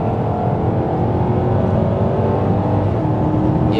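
A 2014 Maserati GranTurismo Sport V8 pulls hard under acceleration, its engine note loud and steady with a quick gear change caught in the middle of the run, heard from inside the car.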